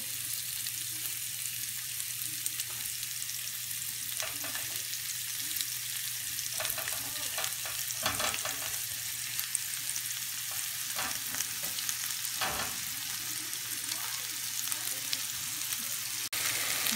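Chicken chili seekh kebabs sizzle and fry steadily in a pan over a bed of chopped onions, a continuous broadband crackle with occasional sharper pops and stirring scrapes, close and moderately loud, with no talking.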